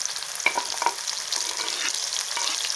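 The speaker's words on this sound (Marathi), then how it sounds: "थोडा लसण राहिला ना तो मिरचीसोबत पण तळतो तर आता आपण हिरवी मिरची घालूया" Green chilies and leftover garlic fry and sizzle in a pan while being stirred, a steady soft crackle with occasional scraping clicks, close and continuous with no talking.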